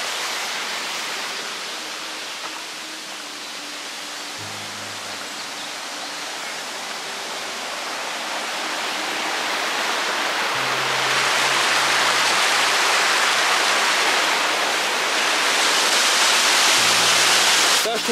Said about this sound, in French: Le fait d'être par-dessus une cascade, pas très grande certes, mais quand tu vois la force de l'eau qui combat la pierre, c'est terrible.